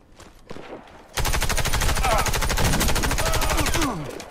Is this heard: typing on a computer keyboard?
no